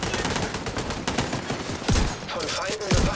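Rapid gunfire from The Division 2 video game, loud bursts of automatic shots and sharp single cracks crowding the whole moment, with faint voices mixed underneath.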